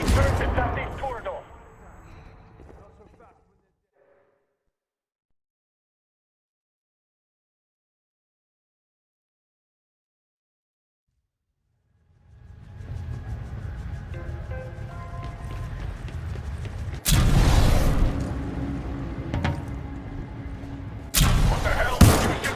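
Automated turrets open fire in a southeast corridor in the Titanfall 2 campaign, bursts of dense rapid gunfire and blasts starting after a long silence and building to loud hits near the end.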